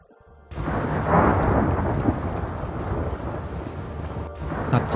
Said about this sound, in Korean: 청명한 저녁 하늘에서 천둥 같은 소리를 들었습니다.